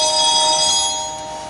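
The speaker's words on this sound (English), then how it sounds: "it's the glockenspiel reiterating" Theatre organ glockenspiel on its orchestral bells stop, playing in reiterating mode, gives a bright sustained metallic ringing chord that rings steadily, then slowly fades, close and alone.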